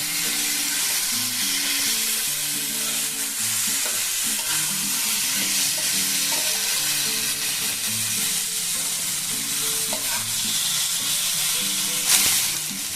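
Vegetables and a fish-head chorchori are stirred in a frying pan, a long unbroken sizzle with repeated scraping and clinking of the spatula close up.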